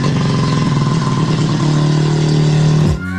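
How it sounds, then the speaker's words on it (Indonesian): An NSU Spider, a two-door convertible with a 500cc single-rotor rotary engine, runs close and loud with a steady humming drone that rises slightly before cutting off abruptly near the end. "NSU menciptakan sebuah mobil bermesin rotor pertama di dunia dengan nama NSU"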